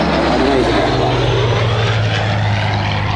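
A Spitfire Mk V, BM597, at a Dunsfold air display: a loud, steady propeller-engine drone with a sustained hum, under a voice talking throughout.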